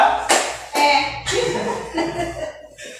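Hand claps in a counted clapping game at school, sharp separate claps in an uneven rhythm, some loud and some softer, with a little laughter among them.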